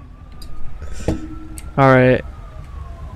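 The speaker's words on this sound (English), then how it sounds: "Okay, dude, the ambulance is coming" An ambulance siren in the GTA 5 FivePD police game sounds as a single brief, loud wail burst amid quiet ambience, after a short spoken word.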